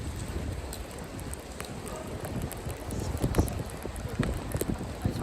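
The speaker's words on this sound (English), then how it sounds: "it's raining really bad" Heavy rain pours down on a city street, a dense steady hiss and patter with scattered louder drips and splashes close by, no talking.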